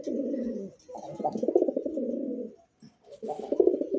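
A pigeon coos close by in soft, throaty bursts, two longer rolling phrases split by a brief pause, with no talk.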